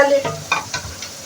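Spices are added to a pot and fry briefly while being stirred, giving short sizzling, scraping bursts close up, with no speech.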